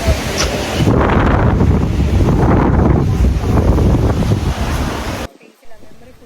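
Strong wind roars and buffets the microphone in heavy rumbling gusts for several seconds near Loch Ness, Scotland, then cuts off abruptly into near quiet.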